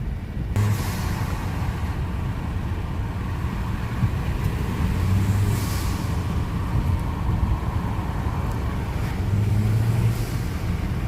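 A Kia Optima 2.0T fitted with an aftermarket air intake and blow-off valve spacer drives past outdoors, a steady engine and road rumble holding at an even loudness for about eleven seconds.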